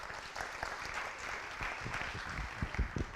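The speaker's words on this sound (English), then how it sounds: "Let's give her another round of applause." A performing arts conference audience claps for a speaker. The applause is a moderately distant, fairly soft patter with a few louder, sharper claps standing out toward the end, and no speech over it.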